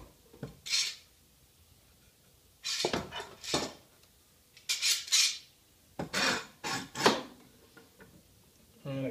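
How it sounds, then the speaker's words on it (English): Clamps being cranked down on a wooden board at a dowel jig, heard as a few sharp metallic clicks and rattles in bursts, spaced through the moment with quiet gaps between. "I clamp this board down so it doesn't wobble"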